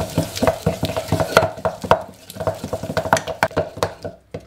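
Butter being beaten soft and creamy for a cinnamon sweet pastry dough: rapid, irregular tapping and scraping strokes against a bowl, close and fairly loud, with a short pause midway, no talk.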